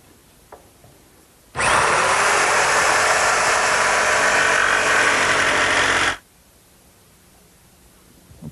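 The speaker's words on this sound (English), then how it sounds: "Now I'm just cutting it out with my handheld jigsaw." A handheld jigsaw cuts out a poster-board pattern shape, a steady, loud buzzing rasp that starts abruptly, runs unbroken for about four and a half seconds, then stops into near silence.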